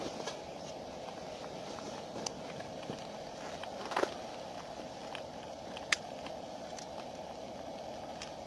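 Egg frying in grease in a pan, with grease spooned over its top: a steady close sizzle with scattered sharp pops throughout.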